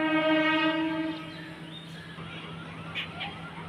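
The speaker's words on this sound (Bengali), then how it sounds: "দেখো বন্ধুরা ট্রেন যাচ্ছে আমাদের বাড়ির পাশ দিয়ে।" A train passes beside a house, heard from the rooftop: a loud, sustained horn blast opens, then fades into a lower rumbling roll with faint scattered noises.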